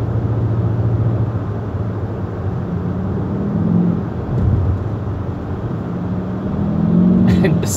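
A Kia Optima GT drones steadily in the cabin on a hill run, its engine note rising and falling slightly with a brief swell near the end; a voice is faintly present underneath.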